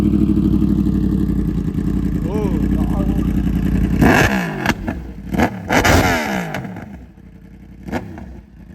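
A motorcycle fitted with an SC Project aftermarket exhaust idles with a steady drone, then rips through several sharp, loud revs close by before settling and falling quiet.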